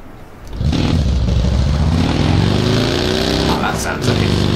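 A buggy's engine in PUBG on the desert map starts up and holds a loud, rising, revving drone close by, sustained to the end.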